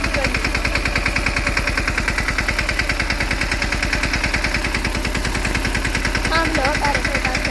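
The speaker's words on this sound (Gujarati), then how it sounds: "મમ્મી જો ટ્રેક્ટર હકારે છે અને આપણે શૂટ કરીએ." A tractor engine runs in a farm field, giving a steady, rapid diesel chugging that stays close and loud from start to finish, with a faint voice briefly near the end.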